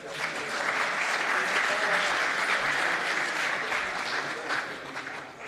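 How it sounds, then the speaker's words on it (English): A conference audience in a concert hall applauds an Ethereum Foundation researcher taking the stage, a dense, steady wash of many hands clapping that holds for several seconds. "Please give a good round of applause for Danny Rayan."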